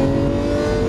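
Lamborghini Aventador LP700-4 accelerating on a track, a loud close engine tone rising steadily in pitch, with strong low harmonics throughout the short burst.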